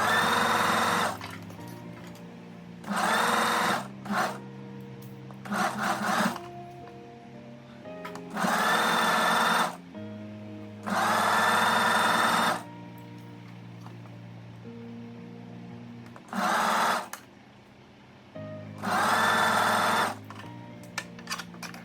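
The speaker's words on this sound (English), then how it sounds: "then we're going to take this to our machine, and then we're going to stitch all the way around here with the 1 centimeter seam allowance" Sewing machine stitching a 1 cm seam around a summer dress, running in separate bursts of fast whirring and rattling several seconds long, with quiet pauses between them, close and loud.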